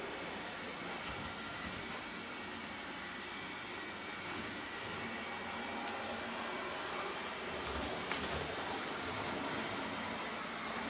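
A BNSF 8179 model locomotive races around a room-sized layout, a faint, steady motor whir and rail rumble running continuously with slight swells as it passes.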